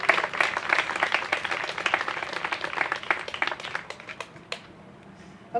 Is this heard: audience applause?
yes